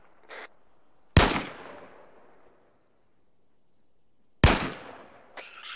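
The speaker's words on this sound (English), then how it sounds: "we are taking marksman fire from that town" Two sharp marksman rifle shots crack out in an Arma military game, each loud and sudden, several seconds apart, with a long reverberant tail rolling away after it.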